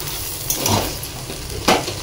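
Onions being stir-fried in a pan: a continuous sizzle with two quick scraping strokes of a spatula, close and fairly loud.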